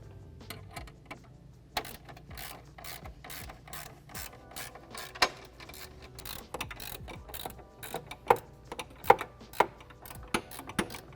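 Lock washer and nut tightened onto a fog light bracket with a ratchet wrench, producing steady close ratcheting clicks in quick bursts with sharper metallic knocks toward the end, no voices.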